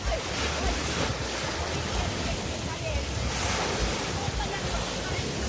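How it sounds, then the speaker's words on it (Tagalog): Ocean waves roll onto a resort shore at high tide in the morning, a continuous loud wash of surf mixed with heavy wind buffeting the microphone, with no break throughout. "High tide this morning. High tide."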